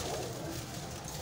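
Breeder pigeons in a loft in Bhati Gate, Lahore, give a brief, soft cooing, low and somewhat faint against a gentle background, with no talk.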